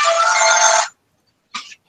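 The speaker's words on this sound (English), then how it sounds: "That's my phone." Mobile phone ringtone sounding loud and steady for about a second, then cutting off, followed after a short silence by a brief second burst of the ring.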